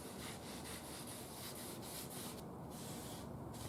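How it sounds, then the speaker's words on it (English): A rag soaked in wood stain rubs back and forth over the stripped case of a Zenith Boomerang radio, giving a soft, steady, close swishing with faint rhythmic strokes and no talk. "what I'm doing is taking the rag that has the stain in it, the goo, and I'm just going over this part that we stripped"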